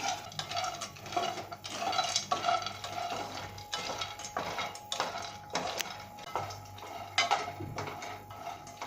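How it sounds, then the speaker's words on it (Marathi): Cashews dry-roasting in a pan for cashew chikki rattle and clink as a spoon scrapes and stirs them, making a busy, irregular run of close metallic taps and scrapes with no voices. "हे काजू आहेत ना ते भाजून घ्यायचे आहेत आपल्याला"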